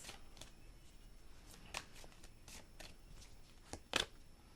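Tarot cards being shuffled by hand, a series of quiet crisp riffling bursts at irregular intervals with one sharper flurry near the end, close and faint, no voices.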